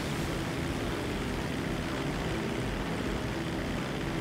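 Steady propeller aircraft drone of a plane flying in GTA Online, a constant broadband engine and wind roar held at an even level throughout, with no voices.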